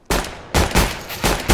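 Counter-Strike: Global Offensive gunfire, four loud sharp bursts of shots in quick succession, close and punchy, with no talk over them.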